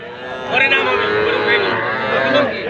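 A young heifer calf moos loudly and close by at a cattle market, a long drawn-out bellow that rises and wavers.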